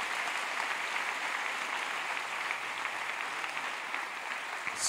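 Church congregation applauding together at a worship event, a dense, steady wash of clapping that fills the whole stretch at even loudness, with no voices standing out.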